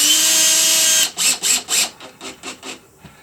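A power drill drives screws into sheetrock, first a steady high whine running for about a second, then a series of short stuttering bursts as the screw seats, close and loud.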